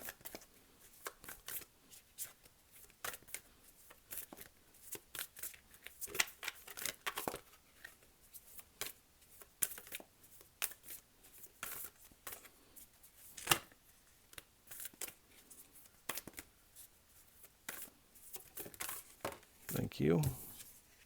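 Tarot cards being shuffled and drawn: soft, quick riffles, slides and flicks of cards in irregular bursts, close and quiet, with a person speaking between them.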